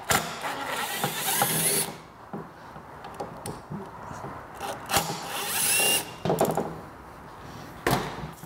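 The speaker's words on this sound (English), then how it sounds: "If you're going to struggle with a hand driver, you may want to move over to an impact to get those off." Impact driver removing screws from a Vespa GTV scooter during a water pump job, heard as several short bursts of whirring separated by pauses, with clicks and handling noises between them at moderate distance.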